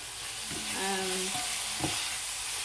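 Spices sizzling steadily in a hot pan while being stirred, with a continuous frying hiss and a few soft scraping stir sounds, close and moderately loud, no talking.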